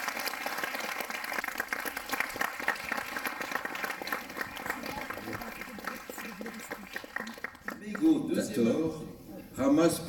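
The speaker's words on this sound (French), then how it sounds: "Je remercie Saïda, vous pouvez l'applaudir" An audience at a mayor's New Year address in a hall applauds steadily for several seconds, a moderate crackling patter that thins out, after which speech and other room noise take over.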